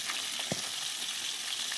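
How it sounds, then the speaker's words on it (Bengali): Tilapia fish frying in a pan of hot oil gives a steady, close hiss of sizzling, with a faint knock or two partway through. "সেই মাছটাকে তেলের ওপর ছেড়ে দিলাম ভাজার জন্য"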